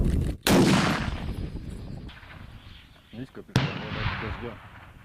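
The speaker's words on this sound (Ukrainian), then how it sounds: "Увага, постріл!" A sharp, loud blast rings out near the start as a GNOM ground robot armed with two RPGs and a machine gun fires, followed by rumbling echo and a second crack a few seconds later, with voices talking in between.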